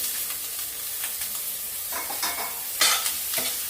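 Cut drumstick (moringa) pods go into a pan of tomato and egg curry and are stirred, making a soft sizzle with scraping strokes that grow louder toward the end, with no talking.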